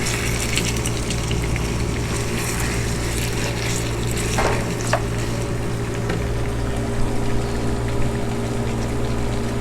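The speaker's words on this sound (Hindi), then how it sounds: "अब हमारा गोश्त थोड़ा सा फ्राई हो चुका है।" Mutton pieces frying in a pan for a white korma, a steady dense sizzle running the whole time at an even, close level, with a few faint clinks near the middle.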